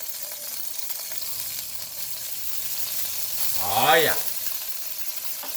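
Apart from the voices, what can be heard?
garlic frying and being stirred in vegetable oil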